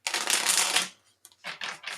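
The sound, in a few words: shuffling tarot cards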